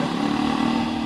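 A JAWA 42 motorcycle idles with its exhaust note close and steady, a low even thrum throughout with no voices.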